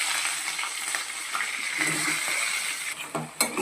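Bay leaf, cinnamon, cut chillies and curry leaves fry in oil for a Telangana mutton curry. A close, moderate sizzle crackles steadily, with a few utensil clinks and a sharper knock near the end.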